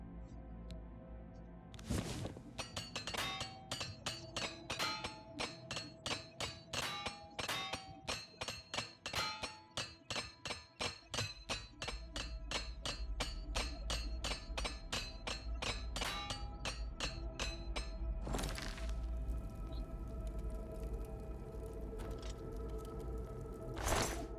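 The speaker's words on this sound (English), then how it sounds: "Repair hammer." In Oblivion Remastered, a repair hammer strikes metal again and again in a fast, steady series of sharp ringing clangs over a low background, with a few louder hits standing out.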